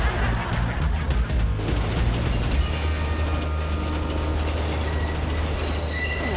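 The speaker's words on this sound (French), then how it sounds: "on est sous le métro aérien, ça arrive tout le temps" An elevated metro train passes overhead, a loud steady rumble with clattering wheels and faint high squeals, heard from directly underneath the track for several seconds.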